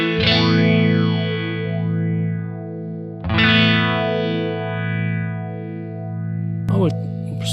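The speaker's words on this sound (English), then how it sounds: "to get a really smooth phasing sound" An electric guitar runs through a Phase 90 phaser effect on a Kemper Profiler: two ringing chords swell with a smooth, sweeping phase motion, then a short sharp strum near the end, close and fairly loud.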